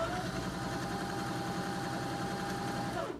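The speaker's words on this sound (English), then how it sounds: "I'm going to go ahead and start sewing on it back here" A sewing machine starts sewing, its motor giving a steady, close mechanical hum with a fine rapid stitching pulse that runs evenly throughout.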